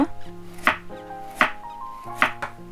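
A knife finely chopping carrots on a cutting board: three sharp, evenly spaced chops, close and crisp, over a soft tonal background.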